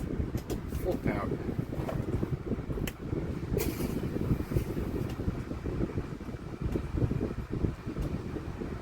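A grey Duracraft 12-inch desk fan runs at full power, a close, rumbling low whoosh of blown air buffeting the microphone, with someone talking over it.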